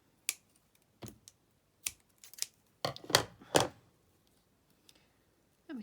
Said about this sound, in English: use some scissors here.